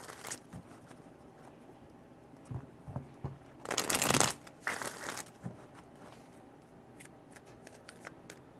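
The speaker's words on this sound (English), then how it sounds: "Three shuffles." A deck of tarot cards shuffled by hand during a reading, three riffling bursts, the loudest near the middle, close and crisp over a quiet room.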